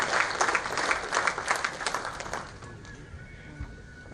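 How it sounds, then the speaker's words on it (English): Applause from an audience at the Olcott Oration lecture, moderately loud at first, then thinning out and fading to scattered claps. "So I believe Mr. Maitri Panagoda deserves a round of applause."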